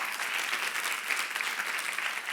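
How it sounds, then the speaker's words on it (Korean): Steady applause from a church youth service congregation, dense and continuous clapping filling the room at an even level throughout, with no one speaking over it. "박수 하세요."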